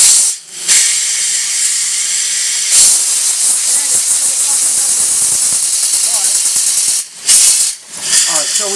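A showman's steam traction engine fitted with top valve gear runs in full forward gear with a faulty, uneven beat, giving loud continuous steam hiss and chuffing that breaks off briefly several times.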